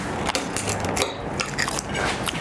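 Crunching through the crisp caramelised sugar top of a creme brulee, a quick run of sharp, close cracking bites.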